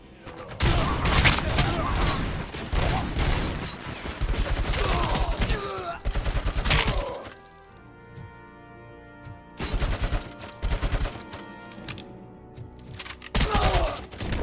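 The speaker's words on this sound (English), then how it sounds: "Classic 80s machine gun sound." Classic 80s-style machine gun fire in the video game Robocop: Rogue City, loud sustained bursts of rapid automatic shots with a brief lull of mechanical sounds between volleys.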